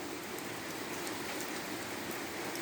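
Steady afternoon rainfall, a dense continuous hiss of drops on surfaces, even and moderately quiet throughout with no voices.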